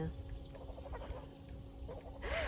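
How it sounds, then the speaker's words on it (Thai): Ducks call outdoors in short, scattered bursts over a low steady hum, with a louder rising call near the end. "มีเป็ดนะ"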